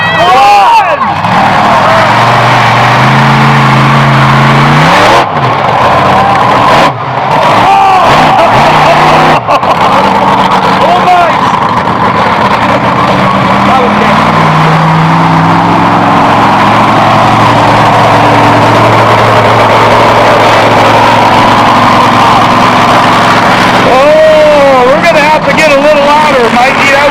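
A 2000-horsepower monster truck engine at a truck show roars loud and sustained throughout, with throttle swells and crowd and voices mixed in.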